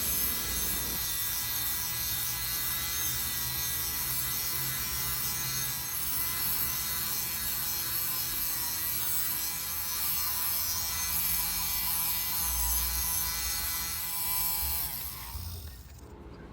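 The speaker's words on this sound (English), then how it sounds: "So I am going to depill them with this little tool, this little gadget." A small electric depiller shaving pills off old sweaters, a steady high whirring buzz with scratchy rubbing as the blade passes over the fabric, continuous and close, stopping near the end.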